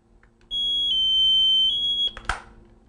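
A Micro-Tech Sentinel Series pressure pad alarm sounds one loud, steady high-pitched electronic tone for about a second and a half, then cuts off with a short click and rustle.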